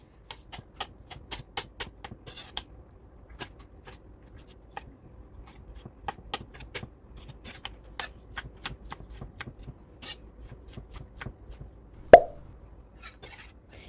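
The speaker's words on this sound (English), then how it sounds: "I'm going to dice our tomatoes as small as you want because these are going to be for our toppings." A knife dicing tomatoes on a cutting board in a home kitchen, giving a long run of crisp, irregular taps at close range, with one louder clack near the end and no talking.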